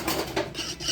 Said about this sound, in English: And just whisk.